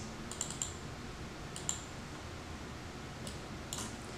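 Light, close keystrokes on a computer keyboard come in a few small clusters as a value is typed in, against a faint steady background hum.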